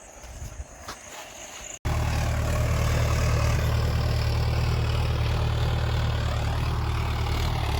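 Steady tractor engine running at idle on a rural Chhattisgarh farm, a loud continuous low rumble that starts abruptly after a short quieter stretch of background noise and holds constant throughout.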